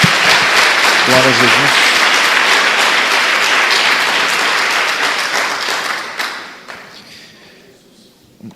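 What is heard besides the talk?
congregation applauding in church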